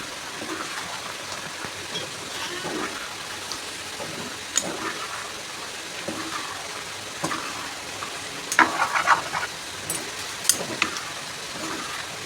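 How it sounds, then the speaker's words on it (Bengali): Catla fish head and bottle gourd curry being stirred in a pan, with a steady sizzling hiss and scattered scraping clinks from a spoon, close and continuous. "মাছের মাথা দিয়ে দিয়েছি, এবার নেড়ে ছেড়ে দেবো"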